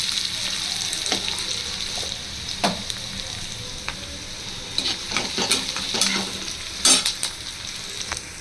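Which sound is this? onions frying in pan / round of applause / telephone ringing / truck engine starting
onions frying in pan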